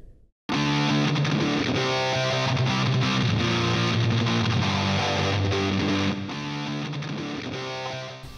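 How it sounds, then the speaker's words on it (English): Distorted electric guitar power chords playing a looped chord progression, loud and sustained with steady chord changes after a brief silent start and a slight drop in level near the end. "I put this into my looper now, the chord progression."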